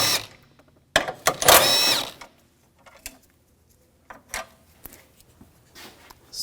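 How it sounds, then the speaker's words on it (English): Ratcheting 13mm socket work removing AC condenser mounting bolts on a 2007-2013 BMW X5 3.0L, heard as a burst of close clicking and metallic ratchet sound, then scattered faint clinks and handling noises. "Using a 13mm socket, take these bolts out."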